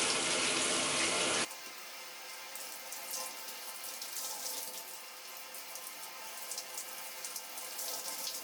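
Running water from a tap pours while conditioner is rinsed out of hair; a loud, close gush for the first second and a half drops to a steadier, softer stream of splashing water that continues to the end.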